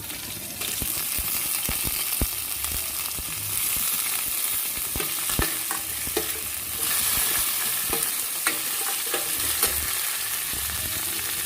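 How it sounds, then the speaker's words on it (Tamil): Curry leaves crackling and sizzling in hot oil, a steady loud fry with frequent sharp pops and occasional stirring, no talking. "இது கூட நம்ம வந்து கருவேப்பிலை ஆட் பண்ணிக்க போகிறோம்"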